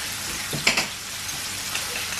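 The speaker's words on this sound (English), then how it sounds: "And then we're going to add our garlic and our ginger." Garlic and ginger fry in a hot pan for a balti chicken dish, giving a loud, steady, close sizzle with a brief stirring clatter near the start.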